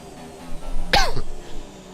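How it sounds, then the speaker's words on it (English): A single sharp cough bursts out once near the middle, close and fairly loud, with faint steady background noise before and after. "it's really hard not to cough the whole time"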